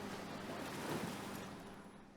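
A sampled water atmosphere from the Tundra Atmos instrument: a faint, soft wash of surf-like water noise with a breathy, wind-like hiss, steady and low in level throughout.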